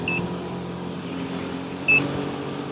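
Two short electronic beeps from a Yamaha JetBlaster Pro jet ski's cruise control as the speed is raised, about two seconds apart, over a steady engine rumble and water noise from the watercraft underway.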